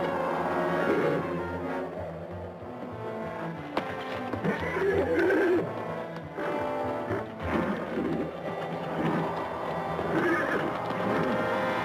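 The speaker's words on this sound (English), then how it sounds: "Horses." Horses neigh and whinny in a Western setting near an old livery stable, with several loud, drawn-out calls over a dense backdrop of hoof clatter and movement. Nobody speaks.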